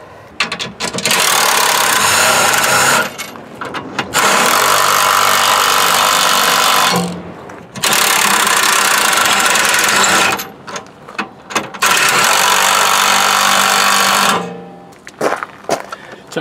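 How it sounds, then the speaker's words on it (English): Ryobi power tool driving a 19 mm socket on an extension, running in loud sustained bursts of several seconds each with brief pauses between them, close up and with no talking. "It's a Ryobi with a extension socket. The socket is 19 millimeter."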